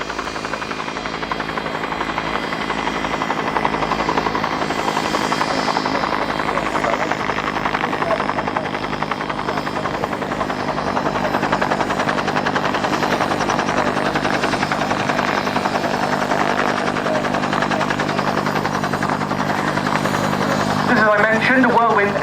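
A Westland Whirlwind HAR-10 helicopter with a Gnome engine moves slowly past at the Yeovilton airshow during a winch demonstration, a loud sustained turbine whine and rotor chop dominating throughout, with a voice talking over it.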